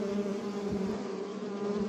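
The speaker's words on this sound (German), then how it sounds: "Die Bienen schwärmen aus." Honeybees swarming out near beehives in May, a dense, steady droning buzz of many insects that holds evenly and fills the whole stretch, with no speech.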